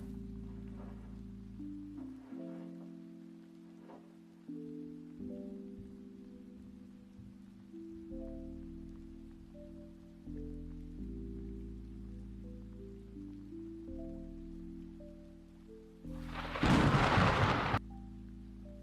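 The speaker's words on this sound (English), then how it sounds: "Let's grab a stock thunder sound." A stock thunder and rain sound effect: soft rain patters under sustained droning tones, then a loud, sharp thunder crack rumbles near the end.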